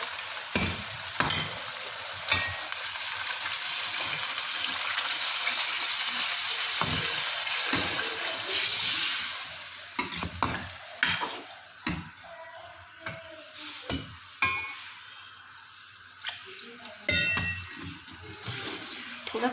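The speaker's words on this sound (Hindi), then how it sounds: "अब हम इसमें पानी ऐड करेंगे।" Water hitting a pot of frying aloo gosht of meat and potatoes, a loud steady sizzle that fades after several seconds into scattered scrapes and clinks of a spoon stirring.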